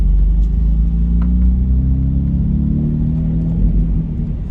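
BMW M4 fitted with a single midpipe exhaust, heard from inside while driving as a loud, steady low engine drone that rises in pitch, with road rumble underneath.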